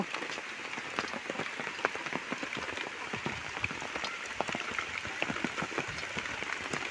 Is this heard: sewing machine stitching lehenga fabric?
no